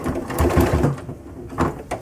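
A sewing machine runs a short line of stitches across the end of a cross-body bag strap, turning at the last short edge. Close, uneven mechanical whirring and clatter come in quick bursts with brief pauses.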